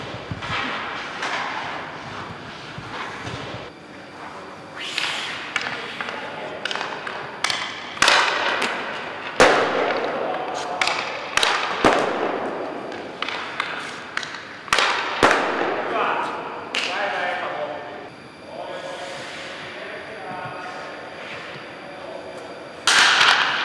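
Ice hockey pucks fired at a goalie in the Hartwall Arena, sharp loud cracks of shots and thuds against pads repeating irregularly, with voices talking between them in a large echoing rink.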